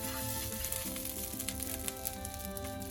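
Butter sizzles and fries in a hot pan, a steady close crackle with faint scraping as it is brushed across the surface.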